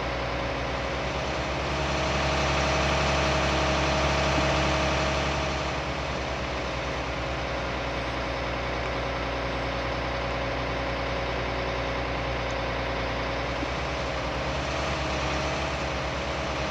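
Tractor engine idles on a farm with hay bales nearby, a steady deep rumble with constant vibration that swells slightly early on, then holds evenly and close for over fifteen seconds without talk.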